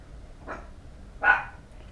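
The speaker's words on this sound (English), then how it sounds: "what the hell is this dog barking about?" A single dog barks twice indoors at night, a short muffled woof followed by a louder, fuller bark, with no one speaking over it.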